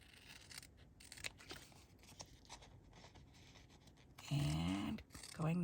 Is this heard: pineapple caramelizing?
no